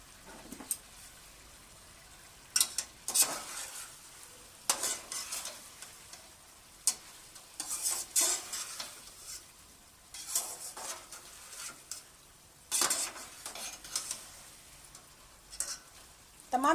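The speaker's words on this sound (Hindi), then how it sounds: "लीजिए, अब इसको अच्छी तरह से हम भून लेंगे" Spices with a spoonful of chaat masala fry in a pan for spiced chicken, pea and potato rice, heard as soft intermittent sizzling with repeated scraping and stirring strokes and occasional clinks of utensil on metal.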